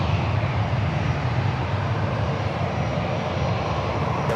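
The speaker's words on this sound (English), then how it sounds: "we got that Air Canada Rouge A319 heading back to Toronto" An Air Canada Rouge Airbus A319 airliner leaves San Diego airport, its engines a steady, loud broadband roar heavy in the low end, held constant throughout with no voices.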